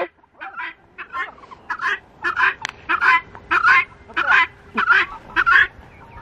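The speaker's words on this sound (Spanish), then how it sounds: "El gallo grande, grande quiso picotear al gallo chiquito." Two roosters, one large and one small, squabble with a steady run of about ten short, harsh calls at close range and no talk.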